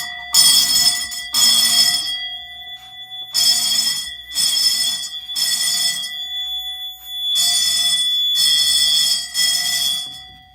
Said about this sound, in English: let's just go ahead and do the smoke detector